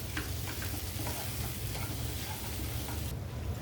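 Matar kachori filling of peas and fresh grated coconut being stirred and mixed in a pan: a steady close scraping and sizzling texture that runs continuously without pause.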